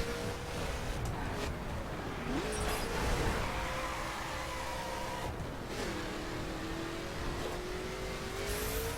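A Mercedes 300 SLR Uhlenhaut in The Crew revs up through long gears, its engine note climbing, dropping at each shift and climbing again, under a steady wash of road and wind noise.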